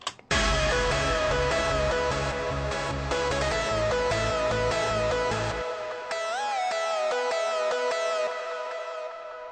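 A hardstyle lead synth patch plays a sustained, detuned melody with heavy reverb and delay, backed by a pounding kick for the first half, then continuing alone with a pitch bend and lingering echo tails.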